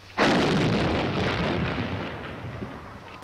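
A 105 mm recoilless rifle fires once at a proving ground: a sudden, loud, close blast with a long rolling boom that decays slowly over several seconds, with no voices.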